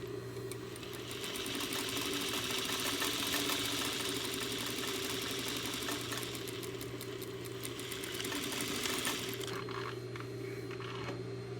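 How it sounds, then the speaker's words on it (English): Close and steady, a sewing machine stitches a quarter-inch seam through muslin with a continuous rapid motor hum and needle rattle, easing slightly near the end. "So I sew the seam."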